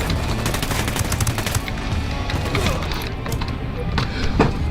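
Gunfire in the shooter game Ghost Recon Wildlands comes in dense automatic bursts and rapid cracks, loud and close, continuing for several seconds with a voice shouting over it.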